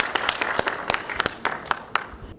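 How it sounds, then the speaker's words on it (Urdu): A small studio audience on a Christian family talk show claps, a sparse run of separate, fairly sharp handclaps in an uneven rhythm that thins out and stops near the end, with no voices. "تالیاں ہونی چاہیے اس بات کے لیے۔"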